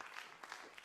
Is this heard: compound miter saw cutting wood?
no